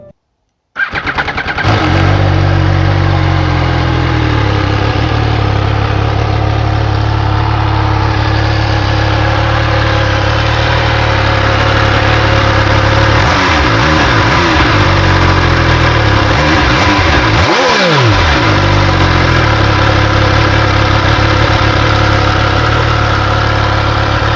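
An MV Agusta Stradale 800 motorcycle engine starts and settles into a steady, loud idle, with several throttle blips rising and falling in pitch partway through.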